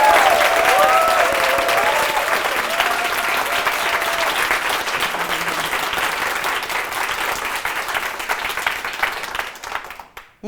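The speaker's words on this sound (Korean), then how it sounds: "다시 한번 큰 박수 부탁드리겠습니다" Loud, sustained applause from a church congregation, dense clapping rolling on for several seconds before tapering off and cutting to quiet at the end.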